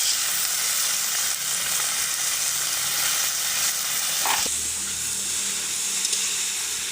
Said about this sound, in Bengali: এখন একটু নেড়ে চেড়ে নেব